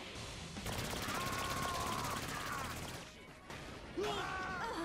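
Sustained automatic gunfire in Saints Row 4 co-op play, a dense rapid stream for a couple of seconds, then a pause and a renewed loud burst, with game effects and voices around it.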